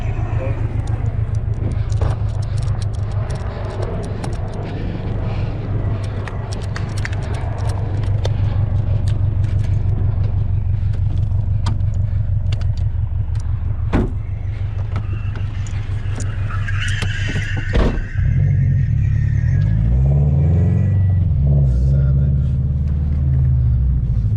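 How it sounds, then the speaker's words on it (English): A Subaru BRZ drifting at night holds a loud, steady engine drone, then a sharp burst cuts in and a rougher, uneven rumble follows as the blown tire runs on. "Oh, I blew a tire, I think."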